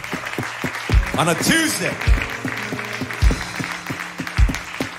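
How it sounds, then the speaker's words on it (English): A church congregation clapping hands together during an evening service, a broad wash of applause with rhythmic thumps from a beat, while a voice speaks over it. "Why don't we clap our hands to the Lord?"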